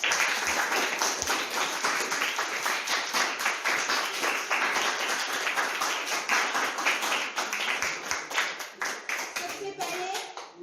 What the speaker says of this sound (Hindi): सब अपने लिए एक बार अच्छे से ताली बजाएं।